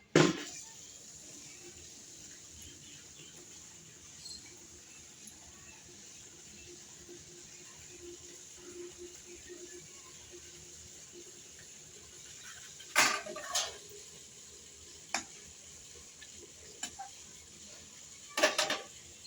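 Potatoes and drumstick (sajne data) curry simmers in a pot with a quiet, steady bubbling hiss, broken by a few sharp clinks of a utensil against the pot near the end.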